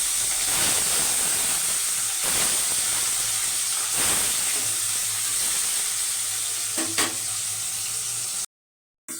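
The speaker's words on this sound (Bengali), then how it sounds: "তেল গরম হয়ে গেছে, মাছ ছেড়ে দেবো।" Katla fish pieces hiss and sizzle in hot oil in a wok, a steady close broadband fry with a few brief louder spits, then a short drop to silence near the end.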